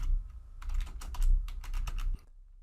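Quick bursts of keystrokes on a computer keyboard as a page name is typed into software, close and fairly quiet, with a brief pause midway and no talking.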